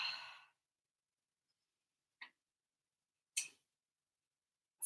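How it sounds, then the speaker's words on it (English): Breathing during a low-impact yoga cardio workout: a soft exhale at the start, then two short, faint breaths separated by silence, close and quiet. "take an inhale in through the nose and exhale through the mouth"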